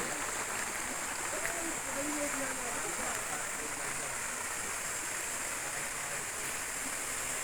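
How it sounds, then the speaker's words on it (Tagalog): A waterfall in a mountain forest gives a steady, continuous rush of falling water, fairly faint and unchanging throughout. "Ang sarap maligo guys, tingnan nyo. Lagas-las ng tubig."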